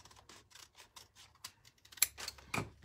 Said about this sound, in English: Take my favorite pair of scissors